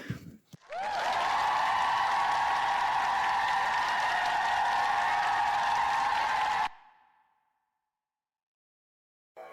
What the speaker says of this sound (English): said Noel to the cheering crowd